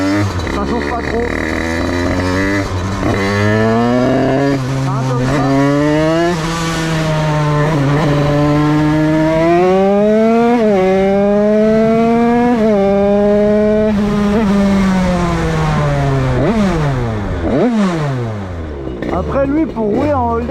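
A DRD 88cc Stage6 Big Racing moped engine revving hard up through the range, a loud, steady, high-pitched two-stroke wail rising and falling in pitch over about twenty seconds.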